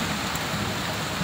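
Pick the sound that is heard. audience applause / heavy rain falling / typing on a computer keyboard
heavy rain falling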